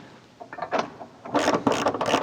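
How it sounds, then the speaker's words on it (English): A hand ratchet with a 13 millimeter socket tightens bolts on a Jeep JL spare tire delete, giving quick clicking ratchet strokes in short bursts that grow louder and busier toward the end, close up with no talk. "we can tighten that all down with a 13 millimeter socket"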